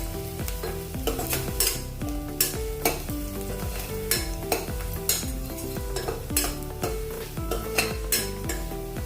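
Onions softening in oil in a pan for a soya and potato veg pulao, giving a continuous sizzle with regular stirring clinks, partly masked by rhythmic background music.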